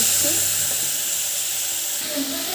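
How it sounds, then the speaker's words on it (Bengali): Ground ginger, garlic and onion paste hissing in hot oil left from frying fish, a dense, steady sizzle heard up close for a couple of seconds. "আমি ওই তেলেই বেটে রেখেছি আদা রসুন পেঁয়াজ আমি দিয়ে"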